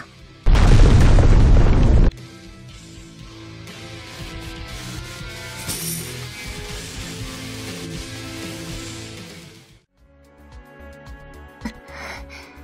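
A loud, deep explosion from the video game Closers bursts out for about two seconds, then drops into a dense, rumbling game soundscape with crackling debris, fading before a few faint clicks near the end.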